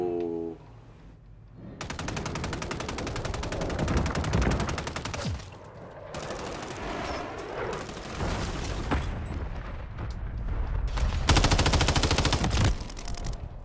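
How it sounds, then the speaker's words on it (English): Video game gunfire in a shooter match, sustained rapid machine-gun bursts with booms, loud and repeated in long volleys with brief pauses between them, with a voice heard briefly. "Who you shooting at, Big Bear?"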